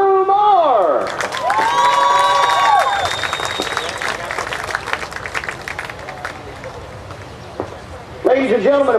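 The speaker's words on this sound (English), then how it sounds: "How about a St. Genevieve round of applause for Drew Moore?" Fair crowd at the Ste. Genevieve County Fair truck and lawnmower pull in Missouri breaking into applause and cheering, loud and sustained, with a voice over the PA system at the start and end.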